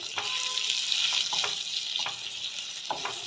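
Spices and vegetables sizzle and fry in a pan for dalia pulao, with a steady bright hiss broken by a few soft scraping stirs, close and continuous with no talking.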